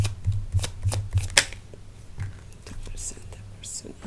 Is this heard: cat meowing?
no